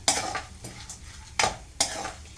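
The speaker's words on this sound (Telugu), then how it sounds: "తర్వాత సన్ఫ్లవర్ సీడ్స్, ఇవి కూడా మంచిగా నెయ్యిలోనే వేయించుకోవాలి" Sunflower seeds roasting in ghee in a pan, with soft sizzling and a few sharp scraping stirs of a spoon against the metal, close and fairly quiet.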